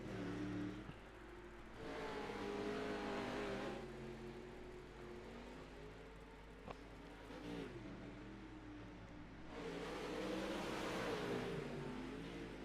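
Demolition derby race cars drive around a track, a continuous engine roar that swells and fades as cars come past, with no talk over it.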